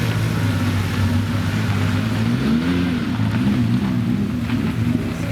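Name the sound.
Ferrari 275 GTB4 engine running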